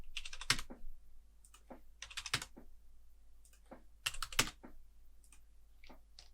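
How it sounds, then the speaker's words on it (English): Computer keyboard keys tapped in short bursts of quick clicks, close and crisp, with pauses between groups of keystrokes while entering values in Softimage XSI. "you can type in exact values"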